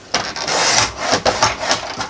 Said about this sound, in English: Just hold it really tight in your trimmer whenever you're trimming these short pieces